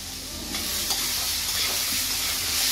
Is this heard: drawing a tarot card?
no